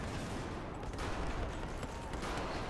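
MG4 machine gun fire in Battlefield 4 multiplayer on the Metro map, a dense, continuous rattle of automatic shots mixed with other battlefield gunfire, steady and loud throughout with no talking.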